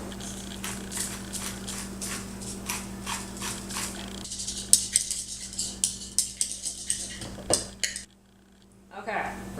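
A small whisk beats sauce in a bowl, producing rapid rhythmic metallic clinks that grow sharper and more distinct before a brief pause near the end.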